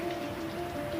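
Rain falling on a Wuhan street at night during the lockdown, a steady even patter and wash with a faint constant tone running through it, no voices.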